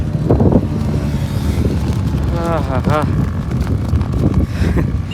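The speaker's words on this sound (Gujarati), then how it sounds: "પવન ચાલુ છે બહુ" Loud, constant sea wind buffets the microphone with low roaring rumble throughout, while a voice briefly speaks over it.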